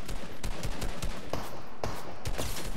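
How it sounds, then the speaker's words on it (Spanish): Rapid bursts of Fortnite gunfire crackle in a dense, loud barrage, with sharp shots landing every fraction of a second over constant noise. "Qué heavy ese balazo"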